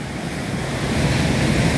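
Ocean surf rolls onto a beach in Aceh with wind buffeting the microphone, a loud, continuous wash of noise with no voices.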